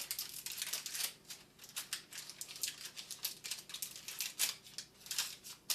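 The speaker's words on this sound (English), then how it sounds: "I take the parchment paper, put it on top, take a metal lid," Parchment paper laid over a glass kombucha jar, followed by a metal lid twisted on, heard as close, rapid crinkling and scraping in quick bursts, each burst separated by short gaps, with no voices.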